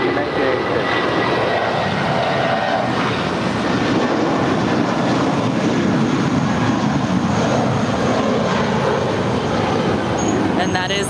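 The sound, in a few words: American Airlines plane departing LAX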